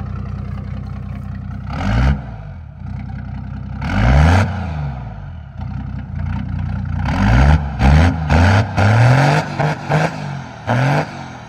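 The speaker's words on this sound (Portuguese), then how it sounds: "Dá um acelero." A Ford F-250 XLT pickup with a tuned six-cylinder engine of over 400 horsepower and straight-pipe exhaust revs repeatedly, several sharp throttle blips rising and falling over a low idle, loud and close.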